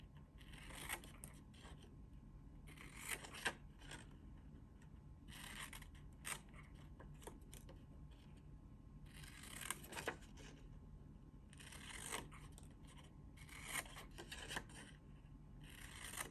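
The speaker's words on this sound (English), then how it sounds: "that's when I like to use my smaller scissors" Small scissors snip through two layers of paper while an ornament is made, giving repeated crisp cutting bursts in uneven clusters, close and fairly quiet, with no talking.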